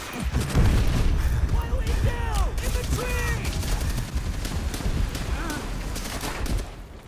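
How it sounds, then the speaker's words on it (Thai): Gunfire and explosions fill a Call of Duty: World at War match on the hardest difficulty, with loud bursts and booms piling on each other and in-game voices calling out over the din. "ระเบิด"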